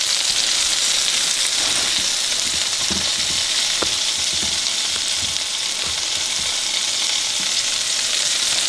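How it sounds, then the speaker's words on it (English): French toast frying in a preheated buttered skillet, a loud continuous close sizzle with scattered faint pops and crackles, steady throughout with no talk. "And then just put it in your preheated skillet with your butter."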